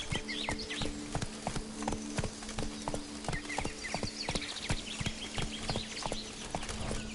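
Roach, the horse in The Witcher 3: Blood and Wine, trotting with a quick, steady clip-clop of hooves, close and even throughout, with faint birdsong in the background.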